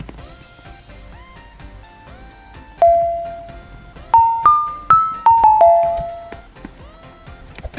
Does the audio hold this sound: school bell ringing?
yes